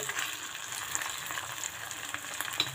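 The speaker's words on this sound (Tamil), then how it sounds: "இப்போ பாருங்கள், இந்த இஞ்சி பூண்டு பேஸ்ட்டு நல்லா வந்து வதங்கிடுச்சு." Ginger garlic paste sautés in a pan with a soft, steady sizzle and light crackles, faint and close throughout a short stretch.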